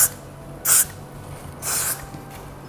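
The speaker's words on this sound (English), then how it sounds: "spray again on the part you feel is not staying and then dry it" Two short, close hissing bursts of hair spray onto a wig, about a second apart, with quiet in between.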